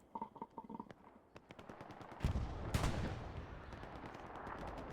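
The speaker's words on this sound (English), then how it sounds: "Oh, it's the artillery gun" Artillery gun firing in a multiplayer war video game, with a rapid burst of gunfire followed by heavy booming blasts and rumbling explosions, loud and dense.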